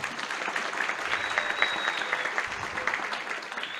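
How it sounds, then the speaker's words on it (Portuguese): Steady audience applause following a round-table panel, a dense even patter of many hands clapping at moderate volume with no talk over it. "Uma salva de palmas para a nossa banca."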